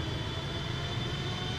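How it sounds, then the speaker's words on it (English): Airliner jet engines spool up in the Prepar3D flight simulator on a British Airways Singapore to Heathrow flight, a steady broadband roar with a high whine, continuous and fairly faint. "See the engine spool up with all that condensation."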